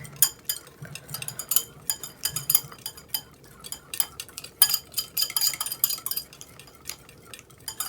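Spoon or whisk mixing thick egg yolks in a bowl, making a close, irregular run of scraping stirs and light clinks against the bowl, with no talking.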